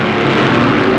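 Stock cars at full throttle during the 1962 Southern 500 NASCAR race at Darlington, a loud, steady roar with no break over one second.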